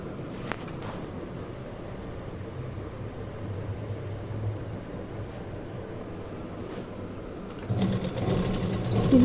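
A sewing machine stitches fabric for a kurti, running as a steady continuous whir with no talk, growing slightly louder near the end.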